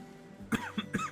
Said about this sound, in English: Like I'm coughing, but it's because of acid reflux